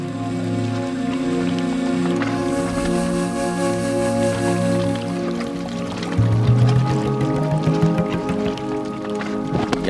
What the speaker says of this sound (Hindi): यहाँ पहुँचने के बाद हमें एक साफ और शफाफ पानी की नदी नज़र आई जो मारगला की चोटी से होते हुए यहाँ से गुजर रही थी